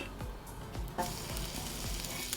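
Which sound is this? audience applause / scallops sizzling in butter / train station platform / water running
scallops sizzling in butter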